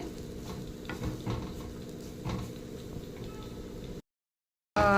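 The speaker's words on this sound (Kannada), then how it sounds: "ಇಲ್ಲಿ ನಾನು ಮೊದಲಿಗೆ ಕಾಯಿ ತುರಿಯನ್ನು ಸ್ವಲ್ಪ ಫ್ರೈ ಮಾಡ್ತಿದ್ದೇನೆ" Grated coconut frying in a pan, a close steady sizzle with scattered crackles and stirring scrapes, cut by a short gap of silence before a louder burst at the end.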